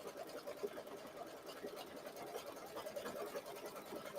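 Single-needle embroidery machine stitching a fabric placement line on a mini quilt, a fast continuous needle chatter at moderate distance with faint speech underneath.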